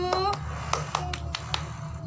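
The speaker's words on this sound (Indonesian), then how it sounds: "Oke, tepuk tangannya dulu." A primary school class claps hands in a short burst of about six or seven sharp, separate claps at an irregular rhythm, fairly close, over a low background hum.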